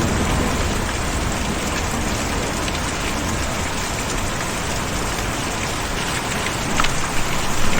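Steady, dense rainfall from the video game Kentucky Route Zero fills the scene as an unbroken hiss of drops, loud and close, with a faint low rumble underneath and no speech.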